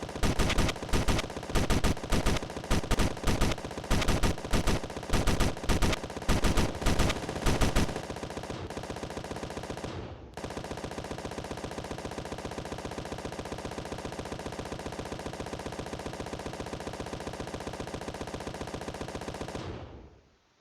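Ship guns firing in the Space Engineers video game: a rapid, loud rattle of bursts gives way to one long sustained stream of automatic fire that briefly dips, then carries on steadily before cutting off, with no talking.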